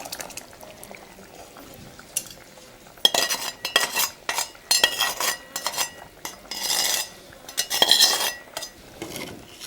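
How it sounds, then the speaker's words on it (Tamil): Cooked dal is poured onto vegetables in a pan for a vegetable dalcha. Close metal spoon clinks and scrapes come in uneven bursts of pouring and stirring between quieter moments, with no speech. "இதோட பருப்பை ஊற்றிடுவோம்."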